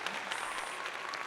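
A short burst of applause, a small group clapping steadily and fairly close, with a little background chatter.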